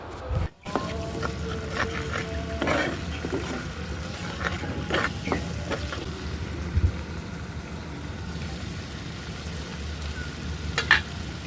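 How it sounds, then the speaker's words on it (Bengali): Spice paste with turmeric and chili powder is stirred and fried in a pan for a banana and koi fish curry, with a steady close sizzle and scattered scraping clinks of the spoon. A brief dropout comes near the start. "এখন হচ্ছে ভালোভাবে কিছুক্ষণ নেড়ে চেড়ে মশলাটা কষিয়ে"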